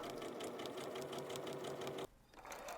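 A sewing machine stitches a seam on a dress at 1 cm from the edge, running in a fast, even rhythm, briefly pausing near the end before resuming more softly.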